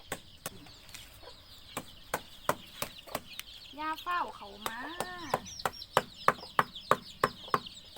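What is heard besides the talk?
chickens clucking in coop at feeding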